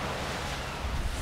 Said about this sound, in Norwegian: Det begynner å bli mye vind her oppe.